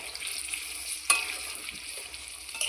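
Potatoes frying in hot oil over a high gas flame, with a steady bright sizzle and a few stirring clinks, including one sharp tap near the middle.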